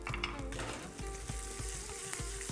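Spices, including black pepper, fry in a hot pan for sambar, with a steady close sizzle and crackle and a few soft stirring taps running straight through.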